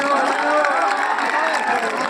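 A large crowd at an Aam Aadmi Party political rally in Gujarat claps in a continuous dense roar, steady and loud throughout with cheering mixed into the wash of applause.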